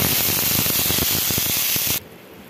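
Onion, garlic and ginger paste hits oil in a pan, giving a loud, steady hiss with some crackle that stops abruptly before the end, leaving only a faint background.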